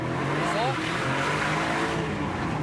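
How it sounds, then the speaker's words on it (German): A 2024 Aston Martin DB12 with 680 PS accelerates hard in Sport Plus mode, its engine a loud, continuous rising roar heard from inside the car. "im S-Plus-Modus, wo du wirklich hier Gas geben kannst, ja, und wirklich diese 680 PS spürst"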